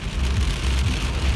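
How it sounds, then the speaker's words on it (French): Heavy rain pours down steadily, a dense broadband hiss with low rumbling underneath, heard from inside a car out on a delivery run near Kirkland and Montreal; loud and continuous with no voices. "Il pleut beaucoup."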